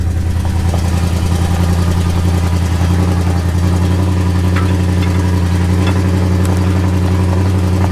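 A four-wheel drive vehicle's engine runs steadily close by, a loud, unbroken mid-pitched rumble that holds constant throughout with no talk.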